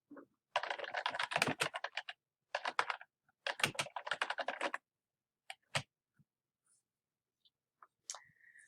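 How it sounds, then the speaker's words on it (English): A search being typed on a computer keyboard: close, crisp bursts of rapid key clicks in several short runs, ending with a few isolated taps and quiet gaps. "We will type in personal hygiene industry as our search."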